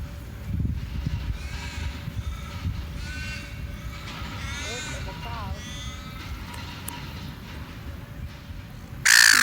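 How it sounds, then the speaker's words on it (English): A seagull calls at close range, a few harsh wavering cries rising and falling over a noisy outdoor background with the sound of handling and a brief loud burst at the end. "You are such a greedy seagull."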